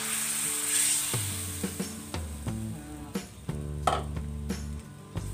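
Spices for acar ikan kunir frying in a pan as they are stirred, a steady hiss and sizzle broken by repeated scraping and tapping of the utensil, close and without talk.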